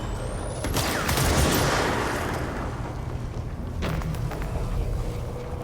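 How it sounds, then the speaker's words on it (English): Sniper rifle shot in the video game Control, a loud crack that rolls into a long, rumbling boom and echo, followed by a second, softer report and some lingering gunfire rumble. "Sniper shot is crazy strong."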